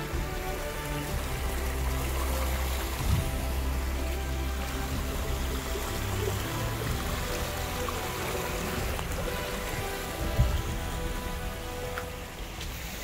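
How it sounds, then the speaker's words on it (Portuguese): Steady, dense rush of water from the Cachoeira de Deus waterfall in Penedo, Rio de Janeiro, a constant broadband wash with no voices heard. "Então essa aqui é a Cachoeira de Deus."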